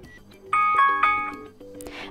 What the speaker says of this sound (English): Now you can pick one of these melodies as your alarm sound